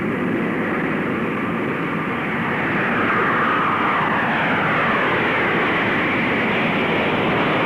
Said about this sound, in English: Captain Fitz Fulton and co-pilot Tom McMurtry will fly the carrier aircraft as chase planes help monitor the operation